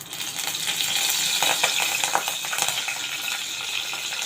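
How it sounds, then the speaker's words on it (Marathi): Curry leaves hitting hot oil with cumin for a potato bhaji, heard as a steady, dense crackling sizzle close up, with a few sharper pops and spatters and no talking. "यामध्ये मी चार कढीपत्त्याची पानं तोडून घालत आहे"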